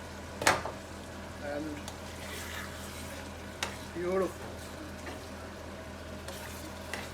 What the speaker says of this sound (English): So our sorpotel has now been cooking on slow heat for about an hour now